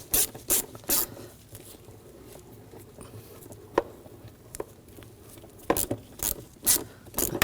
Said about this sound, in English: I'm going to use a 6mm socket, loosen up this worm clamp